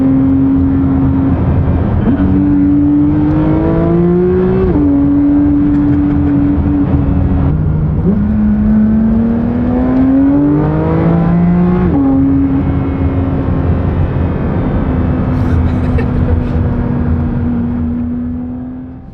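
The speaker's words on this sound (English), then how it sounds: "These downshifts are like, pretty aggressive." A naturally aspirated flat-six car with a new exhaust revs hard and downshifts aggressively, loud and close, the engine note climbing and dropping in repeated sweeps over a steady drone.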